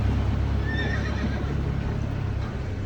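A working horse at a logging camp with a stable whinnies in a thin, high neigh partway through, heard at a distance over steady background rumble and faint hoof clatter.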